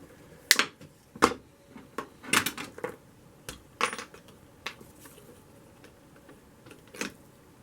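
Lead came being cut and trimmed for a stained glass decorative panel, a series of sharp metallic snips and clicks at irregular intervals, close and crisp against a quiet room.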